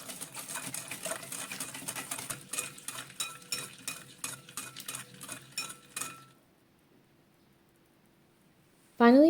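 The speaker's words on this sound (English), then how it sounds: "Use a whisk to mix this until it's fully combined." A whisk beats sugar and salt into muffin batter in a bowl with quick, rhythmic clinking strokes for about six seconds, then stops. Near silence follows, and a brief loud sound cuts in at the very end.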